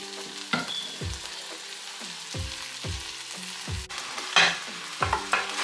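Rice is stirred and fried in a pot for pineapple shrimp fried rice, with a regular series of spoon scrapes and knocks against the pan over a low sizzle, close and fairly quiet, no talk.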